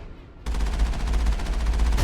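Rapid automatic gunfire rings out in the Mass Effect video game, a dense, loud, continuous burst that begins abruptly after a brief quiet moment and continues without pause.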